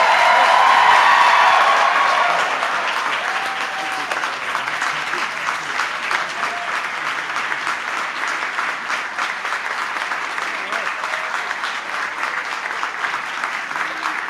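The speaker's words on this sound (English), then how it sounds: "Now you can clap." Audience applause at a 25th anniversary event, loud at first with some cheering mixed in, then settling into steady sustained clapping from a large crowd for the rest of the stretch.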